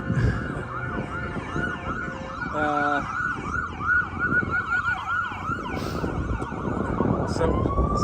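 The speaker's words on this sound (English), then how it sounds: "As we hear the sirens" Wailing ambulance sirens rise and fall continuously, fairly close, with road traffic rumbling underneath and a brief horn-like blast partway through, off the Las Vegas Strip.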